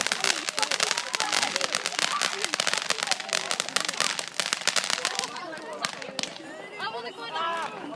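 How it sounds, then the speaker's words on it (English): Bonfire Night fireworks and firecrackers burst in a dense, rapid crackling barrage that thins toward the end, loud and close with scattered whistles, while people talk and exclaim throughout. "What, is that not our fireworks?"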